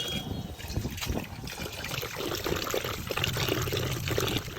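Raw meat being washed under water, a steady splashing trickle and pour with squelchy handling, close and moderately loud, no speech.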